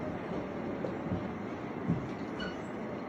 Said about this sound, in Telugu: చూశారు కదండి ట్రైన్ ప్రయాణము